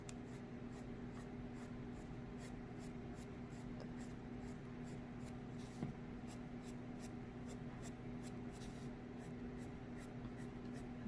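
Steady pencil strokes on paper while coloring a forest mandala, a continuous close scratching that repeats in quick even strokes, heavier at first and then lighter, with no talk.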